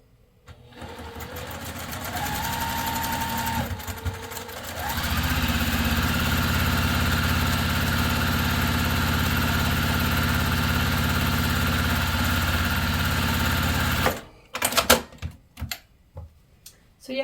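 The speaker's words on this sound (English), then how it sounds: "now I'm just going to sew the top and bottom of our bobbin on" A sewing machine stitches a quilt block in a steady, continuous mechanical whir, close and clear, running for about ten seconds before stopping, followed by a few handling clicks.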